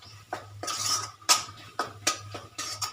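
A spoon stirring paneer curry with pepper powder in a metal pan, scraping and clinking against the sides in a quick, irregular rhythm of about eight close, distinct strokes.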